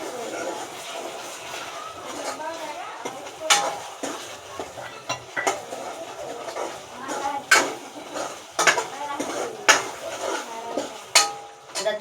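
Tomatoes hit hot frying masala in a pan, sizzling softly while a spoon stirs and knocks against the pan in irregular clinks, as a person talks over the cooking.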